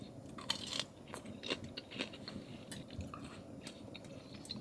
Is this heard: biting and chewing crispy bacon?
yes